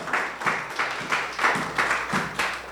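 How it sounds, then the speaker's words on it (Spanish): A church congregation claps together in a steady, rhythmic beat, about six loud bursts of clapping in a row in a reverberant hall, with no talking. "Le damos una ofrenda de palmas al Señor."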